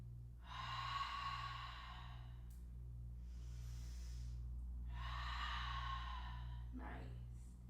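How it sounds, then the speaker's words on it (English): Slow, deep breathing held in a yoga pose: two long, audible exhales separated by a quieter breath, close and soft over a steady low hum. "Take a couple breaths here."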